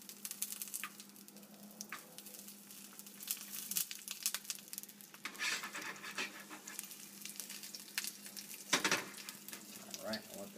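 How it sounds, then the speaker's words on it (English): Asparagus spears fry in a hot pan over medium-high heat, giving a faint, steady sizzle with occasional crackles and brief spikes of louder spattering. "so it sounds like the pan's pretty hot over there"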